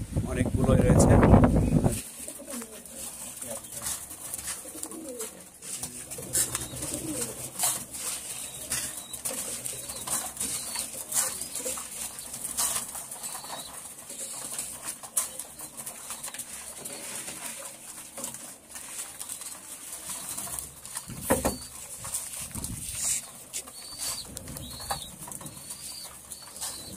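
Pigeons kept in a loft coo faintly in the background, with a loud burst of wing flapping or handling near the start, as someone talks throughout.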